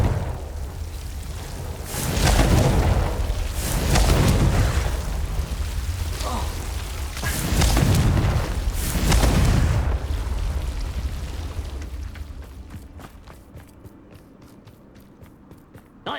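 Confringo blast spell exploding in Hogwarts Legacy, several loud rolling booms in succession, close and heavy, fading into quieter crackling game sounds toward the end.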